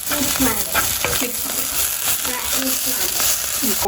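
A spiced filling of chilli powder and garam masala is stirred in a pan as it fries, with steady sizzling and frequent scraping stir strokes up close.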